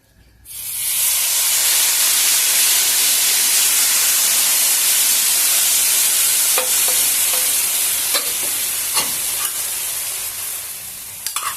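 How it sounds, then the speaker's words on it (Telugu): Rava dosa batter hits a hot oiled pan and bursts into loud, close sizzling that swells within half a second and holds as a dense hiss, fading slightly, with a few light scraping clicks toward the end and no speech. "ఇప్పుడు దోశ వేస్తాము."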